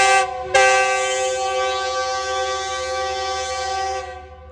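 The Bolan Mail passenger train sounds its horn on arrival at the station, a sustained loud blast that starts abruptly after a brief lead-in, holds for about three and a half seconds, then fades.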